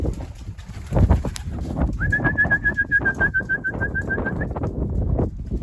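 Young homing pigeons outdoors, with a clear sustained whistling tone running through the middle stretch above a dense, rumbling background of wind and movement.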